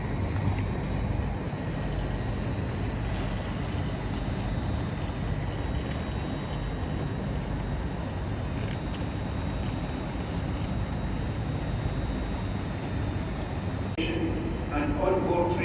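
A Class 379 electric train pulls into a London terminus, a steady loud rumble of wheels and motors filling the platform throughout, with a brief clank near the end.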